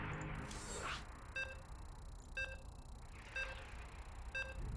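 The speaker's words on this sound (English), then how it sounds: "You can hear the beeps." A video game tournament lobby gives off a series of short electronic beeps, spaced about a second apart, clear and alone over a low hiss.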